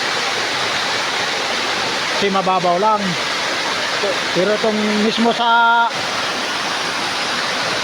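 A waterfall in Diadi pours into a shallow pool, giving a steady, loud broadband roar that fills the whole scene without a break, while someone talks over it in short stretches.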